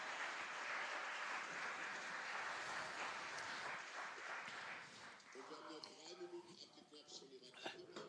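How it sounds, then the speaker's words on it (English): A conference audience applauds a discussion panel on greening trade, a dense sustained clapping that fills the room, then thins and fades as a voice begins speaking. "Please give the panel a round of applause."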